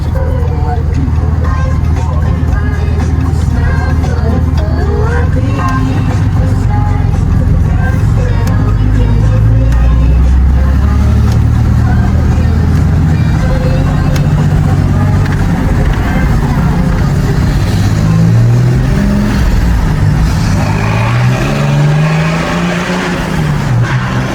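A car engine pulls hard on a test drive after work on the vehicle, its loud, close roar climbing and shifting while merging onto an expressway, with people talking over the steady drone throughout.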